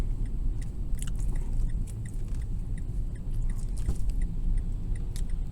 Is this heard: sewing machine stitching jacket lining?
no